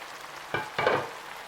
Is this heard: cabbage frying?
yes